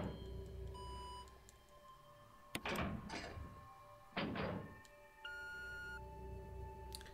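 A heavy door opening in Resident Evil Remake, heard as two loud scraping, grinding swells over a quiet ambient drone with faint ticking tones, no talking.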